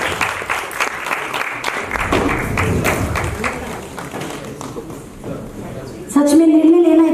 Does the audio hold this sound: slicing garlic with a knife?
no